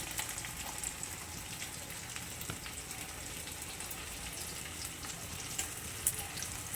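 Ginger and garlic frying in a pan for Chettinad chicken gravy, a continuous soft sizzle and crackle with a few brief scraping or stirring clicks, heard close and fairly quiet.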